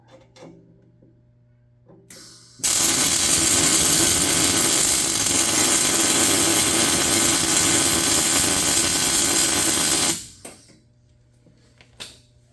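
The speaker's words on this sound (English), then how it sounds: "So I'm going to go back under and weld on it some more." Welding under a tractor box blade to repair a broken weld produces one loud, continuous crackling buzz lasting about seven seconds, with quiet before and after.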